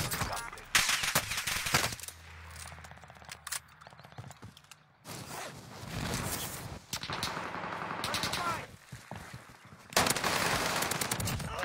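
Rapid bursts of automatic gunfire in a shooter video game, dense and repeated across the whole stretch with short lulls, mixed with game voice callouts and effects.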